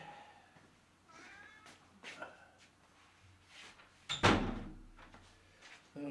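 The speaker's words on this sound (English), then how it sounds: "Let me close that door." Someone shuts a door indoors, landing as one solid thump partway through, with lighter knocks and handling noises around it and no talking.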